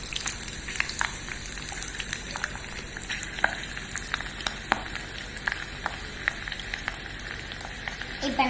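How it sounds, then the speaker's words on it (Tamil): Garlic crackles in hot oil in a tiny miniature pan, already holding mustard seeds and fenugreek, for a fish curry. Faint, sparse popping and light sizzling continue throughout, close but quiet, with no voices. "இப்ப நம்ம பூண்டும் நல்லா பொரியுது"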